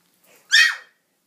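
A Shetland sheepdog puppy gives a single sharp, high bark, close and loud, preceded by a faint whimper.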